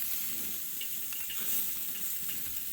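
Hamburgers sizzle on a Buzz-N-Grille with a continuous bright hiss and crackle of frying fat, steady and close, with no talking.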